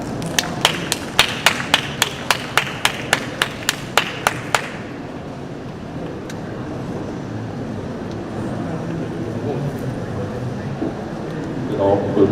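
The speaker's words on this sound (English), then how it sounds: "Big applause for them, ladies and gentlemen." Audience claps at a startup demo presentation, a run of sharp evenly spaced claps for about four seconds that stops abruptly, leaving room tone with faint movement.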